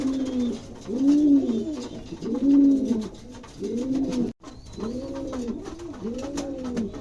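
King pigeons in a pigeon showroom give repeated close, soft rolling coos in a steady rhythm, about one call per second, with no talk over them.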